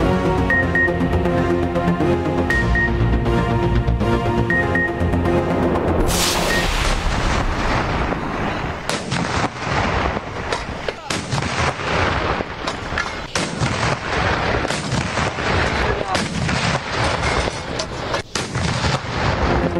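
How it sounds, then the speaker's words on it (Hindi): Artillery fires a 21-gun salute in Muzaffarabad for Azad Jammu and Kashmir's 76th foundation day, heavy booming blasts landing in an irregular series with rumbling echoes, following a stretch of steady tonal music. "मुजफ्फराबाद में 21 तोपों की सलामी से दिन का आगाज़।"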